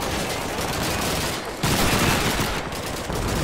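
Dense, continuous gunfire from Call of Duty 2 on the Pipeline level roars without pause, loud and close, with overlapping rifle and machine-gun bursts filling the whole moment.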